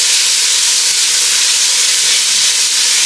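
Onions saute in the leftover fat from browned Italian sausage, giving a loud, dense, unbroken hiss of frying that stays close and even for the whole stretch.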